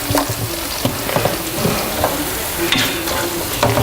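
Onions fry in a pan with a steady, fairly loud sizzle. Repeated stirring scrapes and soft clatters run close by throughout, and no voices are heard.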